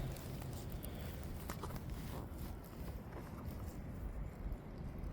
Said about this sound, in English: it's windy as outside today.